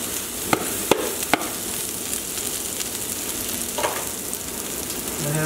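White parts of green onion and garlic sizzle in about two teaspoons of hot oil, a steady, close frying hiss with a few sharp taps and clicks near the start and no voices.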